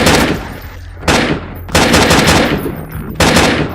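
Gunfire from the Half-Life 2 mod Grey: loud, dense bursts of automatic shots in three or four sustained volleys separated by brief gaps, close and without speech.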